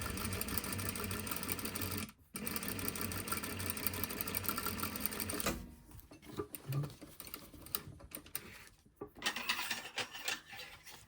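A sewing machine stitches down single-fold bias tape, giving a fast steady mechanical whir in a long run, a brief pause, then shorter start-stop bursts and clicks, close and without talk.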